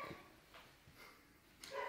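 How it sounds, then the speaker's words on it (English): A dog barks a few times in short, spaced bursts, moderately faint and with no one talking. "Take 5 with barking dogs."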